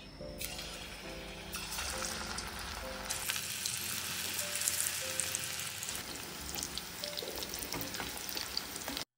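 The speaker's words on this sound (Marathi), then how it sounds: "आणि इकडे आता आपण तळून घेणार आहोत." Food deep-frying in hot oil for a home-style country chicken party meal, a steady dense sizzle and crackle running throughout, loud and close with no talk.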